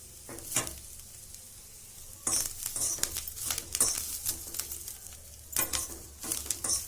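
Chili, ginger, garlic, coriander and onion roast in a pan, a soft ongoing sizzle broken by bursts of stirring and scraping, close and moderately loud, with no one talking.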